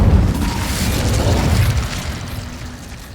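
A fiery Incendio spell bursts in Hogwarts Legacy, a loud booming blast at the start that settles into a rumbling, crackling roar and fades over a few seconds, with no talking.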